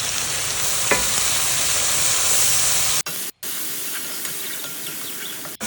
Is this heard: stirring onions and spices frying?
yes